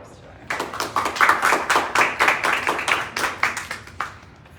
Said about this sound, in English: let's have a round of applause for our presenters today